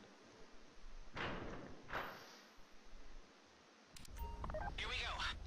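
In GTA Online's Fleeca Job heist, a phone is used to trigger the bank vault door: soft thumps and taps, then a quick run of electronic dialing tones near the end, with game ambience underneath.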